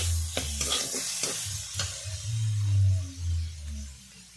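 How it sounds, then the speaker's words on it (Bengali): Onion paste hits a fish head frying in hot oil, giving a close, steady sizzle with a few stirring scrapes and clinks over it. "ওর মধ্যে দিয়ে দেব পেঁয়াজ বাটা"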